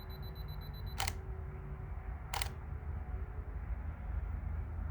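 A camera shutter clicks sharply twice, about a second apart, during a long exposure at an abandoned site, each click crisp and close over a low steady background hum.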